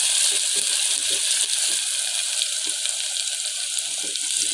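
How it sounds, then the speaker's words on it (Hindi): Onions fry in hot cooking oil for a turnip, peas and fenugreek dish, a loud continuous hiss and crackle close up with soft irregular pops and stirs beneath. "प्याज की भुनाई हो रही है"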